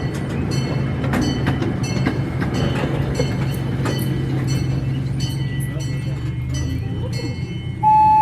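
Onboard a miniature train at the National Museum of Transportation in St. Louis, a steady low rumble of wheels on track runs with occasional clicks, while a voice talks over it throughout.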